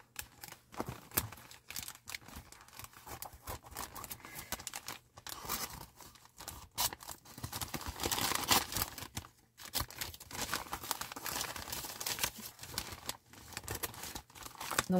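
Advent calendar gift wrapped in bubble wrap and heavily taped gets torn open, with continuous close crinkling, rustling and ripping of plastic and tape, no talking.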